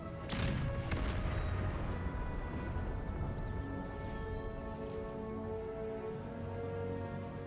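Cannon fire in Empire Total War, with booming volleys and scattered rumbling shots blending into a steady battlefield din that continues throughout.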